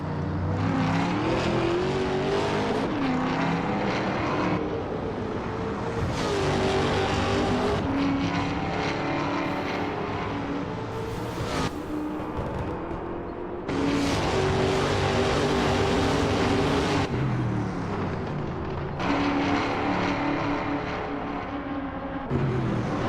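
Trans Am race cars, Ford Mustangs and a Chevrolet Camaro, racing at Laguna Seca; loud, continuous V8 engine roar that rises and falls through repeated gear shifts as the cars run nose to tail past the listener, with no talk.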